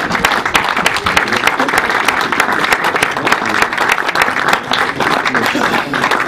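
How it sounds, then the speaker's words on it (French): Audience applause after a basketball game fills the space with dense, steady clapping from a large crowd, loud and sustained throughout, with voices mixed in. "j'aimerais qu'on applaudisse bien fort les joueurs qui sont arrivés"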